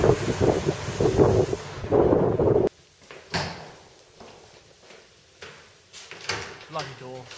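A sharp door bang cuts off a burst of loud talk, followed by quieter shuffling, knocks and voices in the room.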